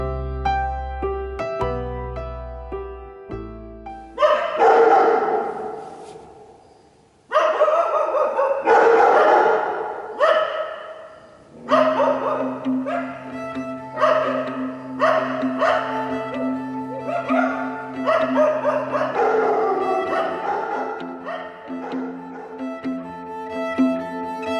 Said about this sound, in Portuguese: Por causa dos cães, passámos uma noite quase em branco.